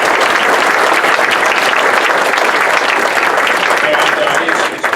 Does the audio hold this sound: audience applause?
yes